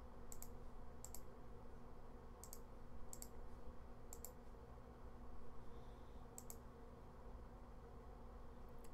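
Sharp, near computer mouse clicks during an animation software demo, coming in small pairs and singles, about six to eight in all, over a steady background hum and with no talk.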